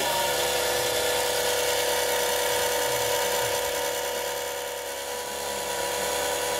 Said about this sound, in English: mix on the fastest setting in our mixer